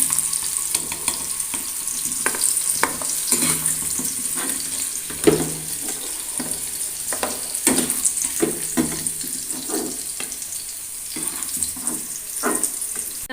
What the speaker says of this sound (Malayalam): നമ്മൾ അതേ വെളിച്ചെണ്ണയിലേക്ക് തന്നെ നമ്മൾ ഒരു പിടി നാളികേരമുണ്ട്, അതൊന്ന് വറുത്തെടുക്കാം.